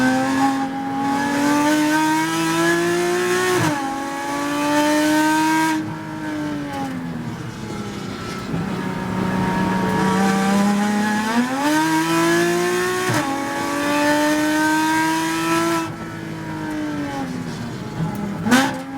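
Regular race cars run hard on a circuit, their loud engines climbing and dropping through repeated gear changes as several cars howl past together for the whole stretch.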